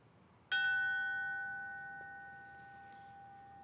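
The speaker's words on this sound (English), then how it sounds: "Ringing the bell will be his son, Nicholas" A single memorial bell strikes once at a fallen firefighter ceremony in Edmonton, a clear resonant tone that rings out and slowly decays in a quiet hall.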